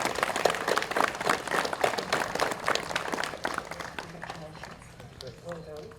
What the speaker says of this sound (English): Give him a big hand of applause and encouragement.